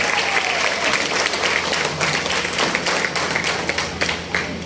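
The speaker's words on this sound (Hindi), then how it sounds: "बहुत जोरदार तालियों का स्वागत कीजिए।" Loud, dense applause from a large crowd, steady and continuous throughout, with no talking over it.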